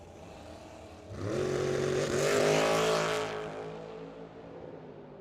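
A dragster race car at a drag racing track roars past at Firebird Motorsports Park, swelling quickly from quiet to a loud rising howl, then fading away over a few seconds.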